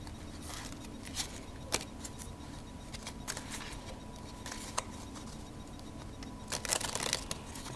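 Karnival Dose playing cards are riffled and dribbled, making quiet, scattered flutters and sharp clustered snaps that speed into a dense burst near the end.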